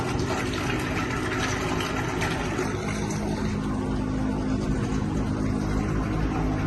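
Liquid asphalt pumps into a trailer, a loud, constant roar of pump and rushing fluid with an engine droning underneath, steady and unbroken throughout.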